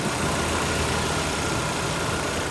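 Peugeot 307 Sporty manual-transmission engine idling smoothly, a steady, even low hum with a faint airy wash on top, continuous and close throughout with no voices.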